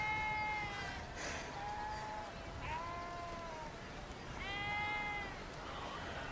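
Sheep bleating on a farm, several wavering calls that rise and fall across the clip, fairly close over a steady outdoor background.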